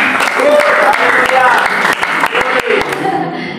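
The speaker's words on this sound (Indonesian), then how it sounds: "Tepuk tangan, tepuk tangan." Audience applause at a prayer and fasting worship gathering on Gunung Salak, Bogor, a dense burst of many hands clapping close by, steady for a few seconds before thinning out, with voices mixed in.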